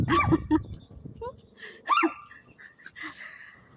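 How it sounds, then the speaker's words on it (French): A small dog gives a few scattered high yips and short barks nearby, separated by quiet pauses and some breathing. "Voilà ma petite Bella qui aboie."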